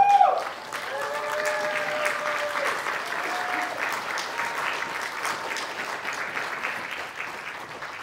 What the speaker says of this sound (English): Why don't we have Jude come up so we can give her a round of applause?